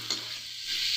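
Potatoes coated in spices are stirred in a hot pan, a brief, even sizzle with a scraping stir and no voices.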